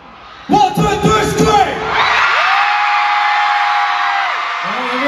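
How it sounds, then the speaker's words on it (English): A few shouted voices, then a concert crowd lets out a loud, sustained scream together for several seconds before it fades. "Scream. 1, 2, 3,"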